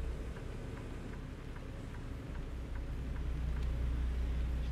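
Rain falls steadily in American Truck Simulator as a FedEx triple-trailer truck drives in eastern Oregon, a constant hiss over a deep rumbling engine drone.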